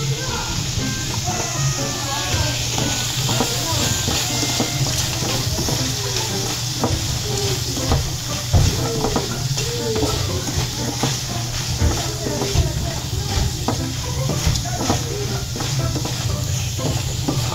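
Frozen leftover talangka crabs frying and being stirred in a pan, a steady sizzle with scraping stir strokes and a low hum underneath, speech heard at times over the cooking.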